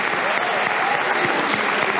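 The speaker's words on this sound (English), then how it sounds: "Let's give all of our students a big round of applause." A big round of audience applause for students at a Newark school board meeting: a dense, loud, continuous roar of many hands clapping together.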